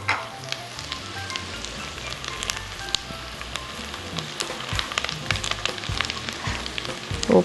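Sliced green banana rounds sauté in a pan with onion and garlic for a dried-beef dish, making a steady close sizzle and crackle with a few utensil clatters, no talking.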